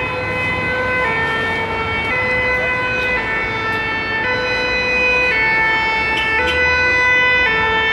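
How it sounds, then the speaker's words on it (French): Ambulance siren wailing loudly and continuously in a steady two-tone alternation with traffic rumble beneath, staying close throughout. "le bus, c'est l'ambulance qui arrive"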